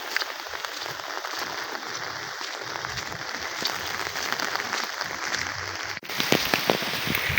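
Heavy monsoon rain pours down steadily over flooded paddy fields, a dense hiss of drops drumming on surfaces, growing slightly louder near the end.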